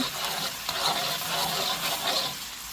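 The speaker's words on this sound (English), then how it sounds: "Give this a stir." Cilantro stems stirred in a hot stir-fry pan for a veggie shrimp and broccoli dish, giving a steady hissing sizzle with soft, rhythmic scraping strokes close by, no talk.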